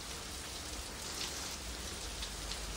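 Steady, dense rain falls during a ride in wet, flooded conditions, a continuous close hiss with no pauses and no voices.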